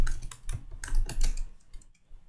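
Close, brisk typing on a computer keyboard, keys clattering in quick uneven bursts with a brief pause near the end, no voices.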